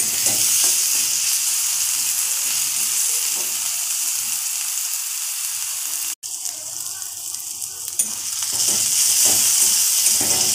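Onion, garlic and chopped green chillies frying in a pan for a kohlrabi stir-fry, a loud continuous sizzle with stirring, dipping briefly quieter midway before rising again, no talk.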